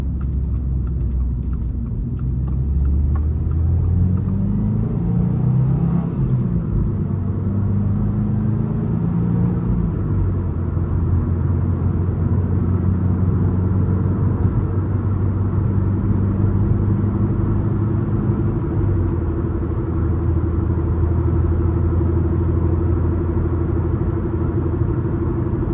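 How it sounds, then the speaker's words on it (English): A manual car engine revving through heel-toe rev-matched downshifts, a loud close drone whose pitch rises in quick throttle blips and falls repeatedly over a steady rumble. "it doesn't take too much to get the throttle blip going"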